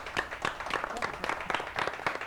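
Quiz-night team applauded by a small audience, with scattered hand claps forming a steady patter for about two seconds alongside faint voices.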